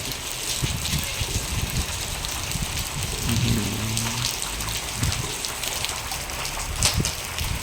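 Steady rain falling outdoors at a construction site, a dense continuous hiss of drops on surfaces, loud and even throughout with faint low sounds underneath.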